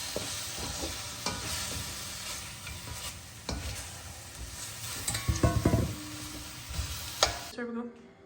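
Chicken, broccoli and noodles stir-fried in a hot pan, a steady loud sizzle with repeated scraping and tossing of a utensil, ending abruptly.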